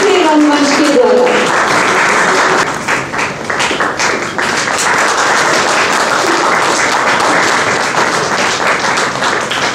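Audience at a theatre festival in Ambala breaks into loud, sustained applause with dense individual claps and taps, and a voice is heard at the start before the clapping takes over.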